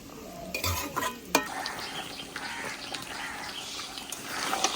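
Chicken leg pieces stir-fried in a pan, busy scraping and clattering of a spatula against metal over a steady sizzle, with a couple of sharp knocks near the start, close and moderately loud.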